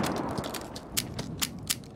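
Sharp gunshots crack in the survival shooter game GRIT, several distinct bursts spaced irregularly and moderately loud over a low background.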